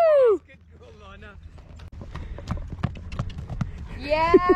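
A ridden horse clip-clops steadily, hooves landing in a quick, even rhythm close by, while people cheer and whoop with excitement at the start and end.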